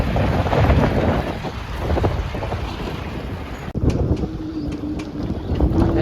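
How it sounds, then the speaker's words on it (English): Strong 30-knot wind on a lake buffeting a boat tied up at a dock: heavy, blustery rushing and microphone buffeting, easing for a moment before gusting loud again, with no talking. "They've had 30 knot winds out there on the lake."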